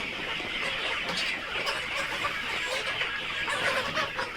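BV380 laying hens, about two months and ten days old, cluck together on a poultry farm. A continuous, busy chorus of close clucking and chatter is heard, with no clear talking.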